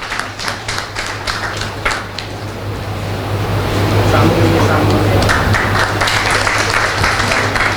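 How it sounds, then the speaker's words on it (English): Audience applauding at an award ceremony for a best thesis award, scattered distinct claps at first building into denser, louder clapping with a steady low hum beneath. "Please guys give a round of applause to her."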